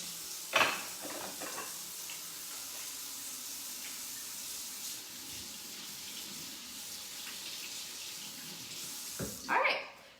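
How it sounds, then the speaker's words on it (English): A kitchen tap runs steadily as hands are washed under it after handling raw chicken, a soft continuous stream with a few louder splashes and clatters at the start and near the end. "Let me wash my hands"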